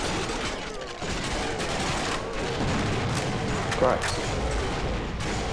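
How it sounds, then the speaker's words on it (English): Bazooka explosions in the Zombie Village video game, a dense, continuous barrage of booms and blasts, with a voice speaking briefly over it. "That was a lot of bazookas."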